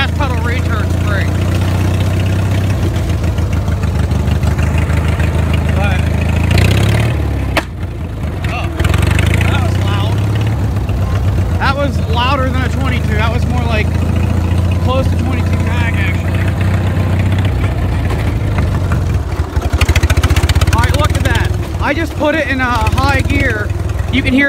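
Warm engine on a small vehicle whose throttle return spring was just fixed idles loud and close with a lumpy, uneven glug-a-lug throb throughout, while a person talks over it.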